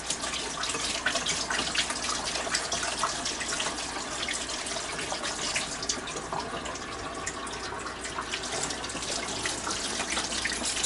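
Steady stream of tap water running into a sink while hands are washed clean of raw hamburger grease, a continuous close splashing hiss with no talk.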